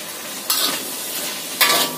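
Loud continuous sizzle of chicken frying in a sauce of oyster sauce, soy sauce, sweet soy sauce and sugar in a pan, with two bursts of stirring scrapes.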